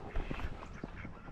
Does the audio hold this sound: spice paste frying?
no